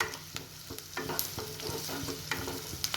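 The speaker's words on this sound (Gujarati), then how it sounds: "ગેસની ફ્લેમ ફૂલ કરીને ડુંગળીને પણ આપણે તેલની અંદર સાંતળી લઈશું।" Onions sauté in oil over a full gas flame, with a busy sizzle broken by repeated scraping and stirring clicks from a utensil in the pan, close and continuous.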